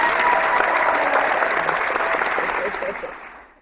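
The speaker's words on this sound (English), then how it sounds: "Let me give you a hand clap real quick." A small studio group on a comic book talk show gives a round of hand clapping, steady and fairly close, fading out at the end.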